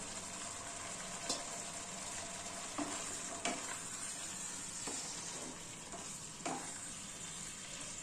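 Fried cauliflower sizzles steadily in a hot pan while a utensil scrapes and stirs a few times, producing soft periodic clunks over the frying hiss.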